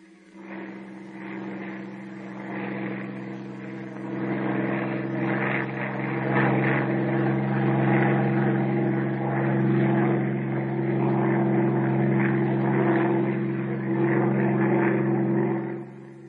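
A Bell P-39 Airacobra fighter's piston engine drones in flight, a deep, steady, loud propeller roar that swells gradually and holds evenly, with no voices over it.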